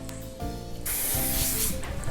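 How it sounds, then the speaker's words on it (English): A short burst of cooking spray hissing close up from an aerosol can for about a second, following some faint handling sounds. "I'm going to spray my bowl with non-cooking spray"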